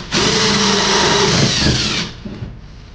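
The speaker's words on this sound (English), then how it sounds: "So let's just drill that while we're doing this here." A power drill boring a hole for a submersible water pump cord, a loud close whine running steadily for about two seconds, then cutting off into a few light clatters.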